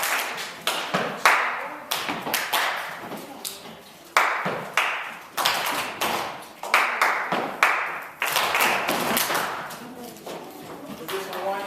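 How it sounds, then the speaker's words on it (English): Hands clap in quick, sharp bursts, mostly in pairs and singles, with a roomy echo between them. The clapping repeats through the whole stretch. "Clap twice."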